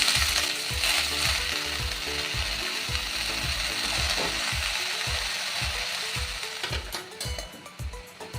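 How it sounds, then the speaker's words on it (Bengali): Greens go into hot ghee for a festival offering dish, a dense, bright sizzle running throughout with a steady rhythmic knocking pulse underneath. "ঘি গরম হয়ে গেছে, এবার দিয়ে দেবো এই শাক।"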